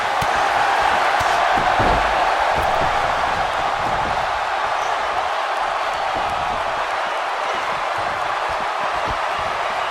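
A crowd cheers steadily in a WWE 2K19 women's wrestling championship match, a loud continuous roar of arena noise with occasional thuds and slams from the ring and a faint commentator voice.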